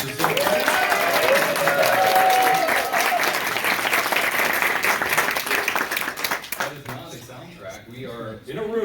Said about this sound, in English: we will have some footage to show the overly excited crowd that we have here